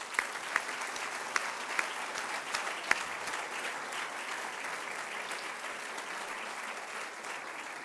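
College audience applauding staff during a fall address, a soft, distant, sustained wash of clapping with a few sharper individual claps early on.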